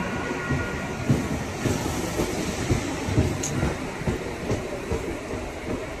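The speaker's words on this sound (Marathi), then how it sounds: "वाजून पण एक ट्रेन जातो." A suburban commuter train rumbling along, a dense continuous roar with rhythmic clatter of wheels over rail joints, steady and close throughout.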